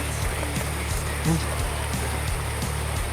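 Heavy rain pours across a cornfield in a steady, dense hiss, with a low pulsing engine-like hum underneath and a brief murmur of voices partway through.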